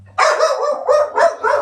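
A dog barks loudly and close by in an agitated burst, about four rapid barks running almost together over a quiet background.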